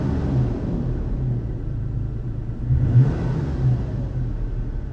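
A Toyota Tacoma engine fitted with a cold air intake filter rumbles at idle and is blipped into a rev about midway, swelling briefly before settling back to a steady low drone.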